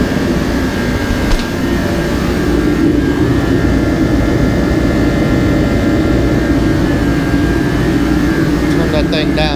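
A powerful heater runs loudly, giving a steady, unbroken roaring rush that stays constant throughout, close by and dominating the space.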